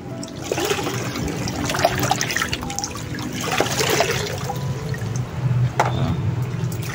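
Water poured over potted Cattleya orchids with dense, overgrown roots, a close, steady trickle and splash that runs the whole time, swelling and easing a little, with no talking.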